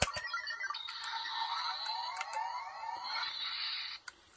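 A tinny electronic SPD Shadow Ranger toy morpher plays a warbling, siren-like synthesized effect with sweeping tones and a few clicks, then cuts off abruptly.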